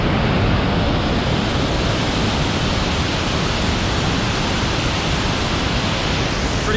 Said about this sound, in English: this is a little waterfall called Albert Falls